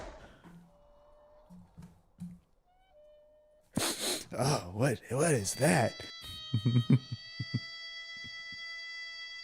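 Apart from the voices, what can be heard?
harmonica playing in Once Upon a Time in the West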